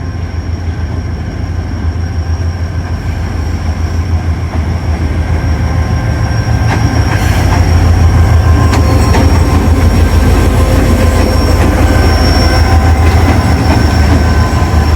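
A heavy HGMU locomotive rumbles loudly past hauling the Rehman Baba Express passenger train at Toba Tek Singh station, Pakistan, with a deep, steady roar, wheel noise and occasional metallic squeals.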